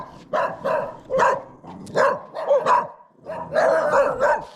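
Dog barking outdoors near the fields, a string of loud, close barks in an uneven rhythm with short gaps, occasionally rising into yips.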